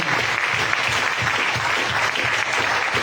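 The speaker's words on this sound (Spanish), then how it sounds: "Denle un aplauso a Cristo." Loud, continuous clapping fills a church as the congregation applauds Christ during a service, a dense even roar with no voices standing out.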